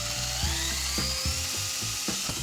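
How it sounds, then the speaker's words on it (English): A cordless drill with a brad point bit boring into a board, its motor whining in short repeated bursts that rise and drop in pitch, close and steady. "I'm using a drill bit with a brad point just to get more precision here."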